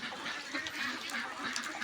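Two-month-old ducks on a duck farm quack in a noisy overlapping chorus, with repeated calls rising and falling close by and no talking.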